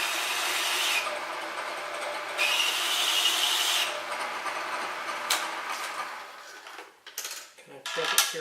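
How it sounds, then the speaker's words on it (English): A countersink bit grinds into the head of a metric bolt with a harsh, continuous metal rasp in several long passes, then gives way to scattered clanks and handling noises up close. "I'm just going to go ahead and countersink the head of this bolt down."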